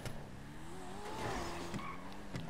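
A car engine in the GTA video game revs and accelerates steadily, with a faint tire squeal partway through, heard at low volume without any talk.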